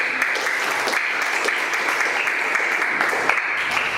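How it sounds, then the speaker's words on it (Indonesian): Classroom applause for a student representative, steady loud clapping from a group of pupils lasting throughout, with no talk over it. "berikan tepuk tangan kepada perwakilan"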